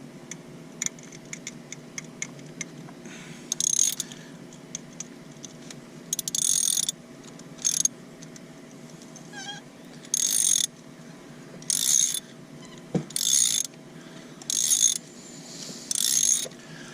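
Ratchet wrench turning a spark plug socket deep in a Hyundai 1.6L turbo engine, heard as repeated bursts of rapid clicking, about eight short runs spaced over the stretch, close and fairly loud over a low steady hum.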